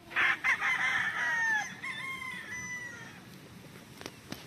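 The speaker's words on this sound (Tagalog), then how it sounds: "Isa po yung pure na yellow-legged hatch." A pure yellow-legged hatch gamefowl rooster crows once, loud and close, in a drawn-out call that trails off over faint outdoor background noise.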